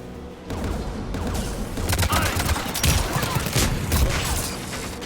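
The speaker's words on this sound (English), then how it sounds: "AA guns ahead of us" Anti-aircraft guns in the video game Mass Effect 3 fire in rapid, dense volleys after a brief quiet start. The bursts come in sharp, repeated thumps and cracks that stay loud and close.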